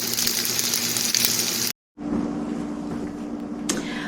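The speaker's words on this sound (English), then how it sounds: "Soaked it up in the bread and frying it in butter." Steady sizzling hiss of sourdough French toast frying in butter in a pan, with a brief moment of silence before the sizzle resumes, close and fairly loud.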